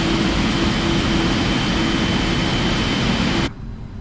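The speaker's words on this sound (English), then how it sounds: "So that's engine number 2 that we just started up." Steady, loud roar of a running Boeing 777-300ER jet engine in Microsoft Flight Simulator 2020, a constant whine over broadband rumble that drops abruptly near the end.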